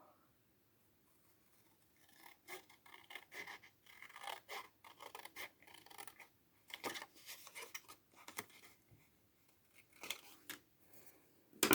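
Scissors snip through a paper panel in a run of quiet, close, irregular cuts and rasps, pausing briefly between bursts.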